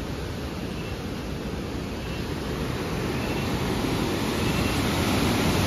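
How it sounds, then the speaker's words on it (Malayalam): A hillside stream in Munnar running downhill over a small cascade, its flow low after little rain, heard as a steady, close, broadband rush of water without pauses or voices. "ഇവിടുന്ന് നമുക്ക് വെള്ളമേ താഴോട്ട് പോകുന്നൊന്ന് കാണാം."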